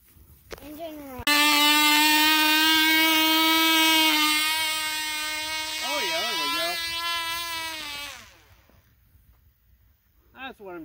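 A Cox TD .020 glow engine on a Fubar 29X free-flight model airplane screams loudly at a steady high pitch for about seven seconds, wavering briefly, then cuts out abruptly, followed by quiet with a voice near the end.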